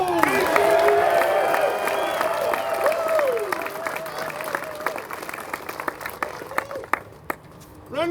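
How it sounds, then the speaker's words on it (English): Applause and cheering from a disc golf tournament crowd at a world championship round, a dense wash of clapping with scattered whoops and voices that thins into sparser claps toward the end. "let's put our hands together for Kevin"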